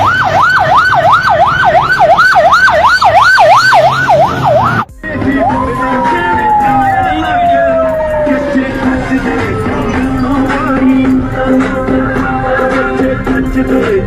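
An ambulance siren warbles rapidly and loudly up close, cuts off abruptly, then a single long tone slides slowly downward as the vehicle passes, with engine and road traffic rumbling underneath.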